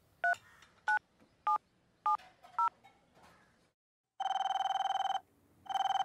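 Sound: telephone dialing and ringing

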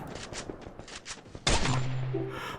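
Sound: gunfire in a video game

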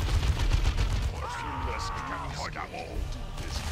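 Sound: bolter gunfire in the video game Dawn of War 2

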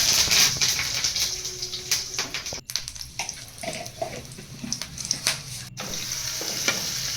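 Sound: mustard seeds and curry leaves sizzling in oil for chutney tempering

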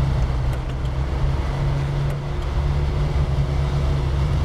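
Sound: video game car driving, SnowRunner

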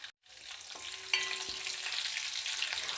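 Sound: garlic and curry leaves frying in oil

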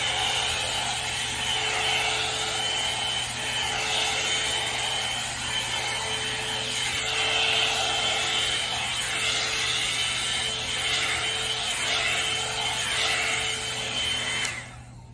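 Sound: hair dryer blow drying hair held upside down

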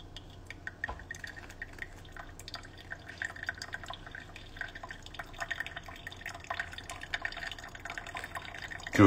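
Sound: pour over coffee dripping

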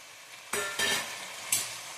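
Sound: frying tomatoes in seasoning for oggarane rice

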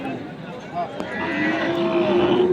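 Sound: cows and calves at cattle market

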